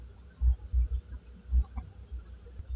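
A computer mouse clicks quietly in a few short bursts, single and double taps spaced across a couple of seconds in a quiet room.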